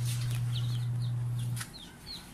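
Chickens cluck faintly at feeding time, giving a few short, scattered calls over a low steady hum, one of which breaks off partway through.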